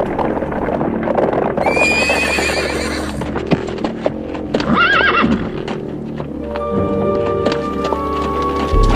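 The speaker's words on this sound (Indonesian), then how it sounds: "Ada 3 orang pengendara kuda menuju kemari." Horses whinny loudly twice over steady clip-clopping hooves as three riders approach, with a musical drone underneath and no talk.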